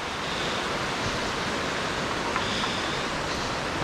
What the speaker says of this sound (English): Oh, look, I think I found a waterfall, Tristan.